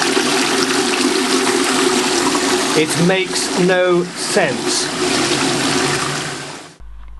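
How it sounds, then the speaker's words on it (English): A toilet flushing with drinking water gives a steady, loud rush of water for several seconds, with a voice speaking briefly over it before it cuts off abruptly. "we're using this expensive drinking water for flushing the toilet"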